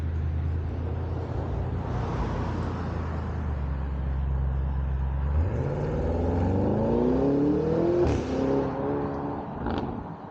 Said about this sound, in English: you get the sound and the crackle of that exhaust